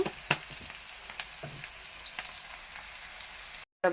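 Onions with a pinch of cumin fry in a pan, giving a soft, steady sizzle with scattered crackles and small pops, close but fairly quiet, cut off briefly near the end.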